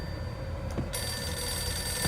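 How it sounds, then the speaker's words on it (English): An old-style telephone bell rings with a steady metallic trill over a continuous low background hum in the Max Payne video game, with no talk over it. "Let me answer the phone over here."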